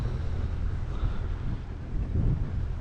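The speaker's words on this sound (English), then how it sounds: "Motor sailing at the moment, but I'm about to switch the engine off." A sailboat motor sailing with its engine running, a steady low rumble under continuous wind buffeting the microphone, close and constant with no voices.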